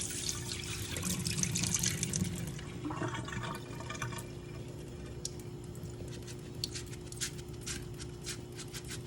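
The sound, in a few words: water poured off through mesh strainer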